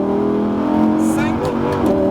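A Lamborghini Huracan EVO 5.2 with a 640 hp engine accelerates hard on the Castellet race track, its steady high engine note rising slightly under an instructor's continuous coaching.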